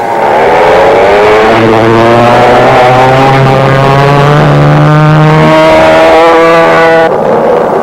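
McCulloch-engined go-karts race at the 1961 Go-Kart Club of America Nationals in Azusa, California, their small two-stroke engines whining loudly and rising in pitch as they pass close by.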